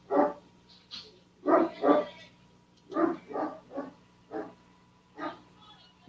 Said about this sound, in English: Is that your little poodle barking?